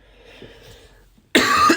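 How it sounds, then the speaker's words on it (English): A single loud, harsh cough bursts out close to the microphone after a quiet moment. "I've been dealing with a cough"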